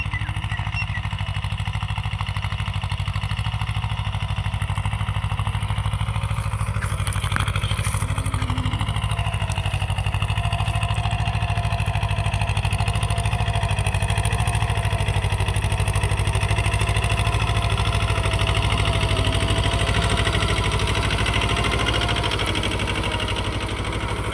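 A Jio tractor engine runs continuously at a steady idle-like throb with a low rumbling drone and faint mechanical clatter, loud and close throughout, with no voices.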